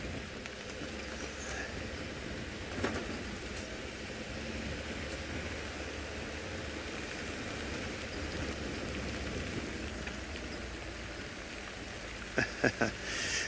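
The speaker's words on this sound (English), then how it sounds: "Yeah, it is raining at the moment." Rain falls steadily on a safari in the bush during a lightning storm, a broad, even hiss close by, with a few brief knocks near the end and no talk.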